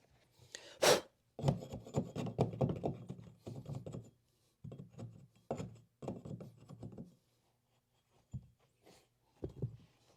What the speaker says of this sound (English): So I'm just going to trim off some excess.